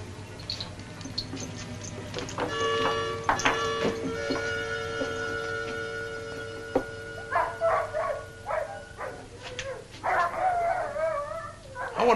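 Several sled dogs bark and yip in short bursts in the distance, with a drawn-out howl-like whine and a steady low hum underneath.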